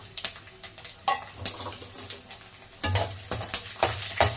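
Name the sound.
vadagam and garlic frying in oil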